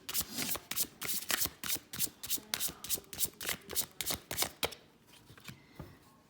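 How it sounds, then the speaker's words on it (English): Tarot cards being shuffled by hand, a rapid series of crisp riffling flicks in a steady rhythm, close and fairly loud, easing into softer card handling near the end with no talking. "Let me go ahead and pull a clarifier card."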